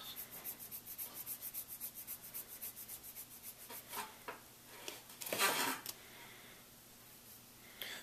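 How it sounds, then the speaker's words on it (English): An R-hop airsoft part being cleaned of burrs with sanding or filing: quiet rhythmic rubbing strokes in a steady series, then a brief louder scrape near the end, close and alone. "Clean the burrs off of this."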